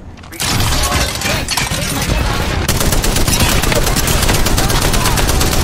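Rapid, continuous gunfire from a plant enemy in a shooter video game, a dense, loud barrage of shots that starts abruptly and keeps going without a break.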